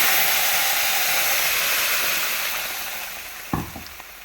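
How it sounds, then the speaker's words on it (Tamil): Steady loud sizzling of vadagam, a sun-dried seasoning ball, frying in hot oil, then masala added, easing slightly toward the end, with a brief clatter near the finish. "வடகம் நல்லா பொரியட்டும் நல்லா பொரிஞ்சு வந்துடுச்சு இப்போ மசாலா ஆட் பண்ணிக்கலாம்"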